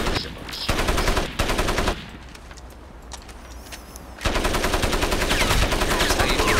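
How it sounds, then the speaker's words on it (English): Rapid automatic gunfire rattles in dense bursts while shooting aliens in the game Crysis. Loud close fire runs for about two seconds, drops to a low rumbling lull, then resumes as a sustained stream of shots. "You shoot them in the back where the gas is, and it explodes"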